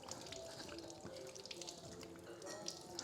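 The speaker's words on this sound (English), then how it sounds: "can you hear the water?" Water runs from a tap for hand washing, a steady splashing stream with scattered drips, fairly quiet and continuous throughout.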